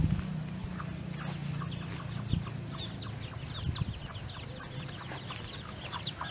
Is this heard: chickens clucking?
yes